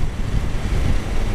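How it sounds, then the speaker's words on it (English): Wind buffeting a motorcyclist riding outdoors on a cold, rainy day, a steady loud low rumble of gusting air over the microphone throughout. "Oh, it's windy"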